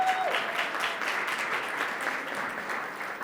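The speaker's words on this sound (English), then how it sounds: "Big round of applause." Audience applause at a club luncheon event, a steady wash of many hands clapping from a full room, sustained and fairly loud for a few seconds without easing.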